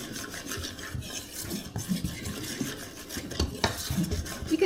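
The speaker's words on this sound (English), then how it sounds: "So now we are going to mix this all together just to make sure it's combined." Dry homemade pantry mix, like a hot cocoa blend, stirred together in a bowl, with close scraping and rustling strokes and light clinks of a utensil against the container.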